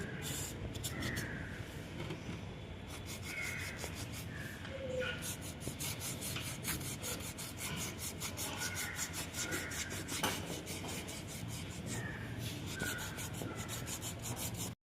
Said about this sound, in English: So we will do sandpapering for all.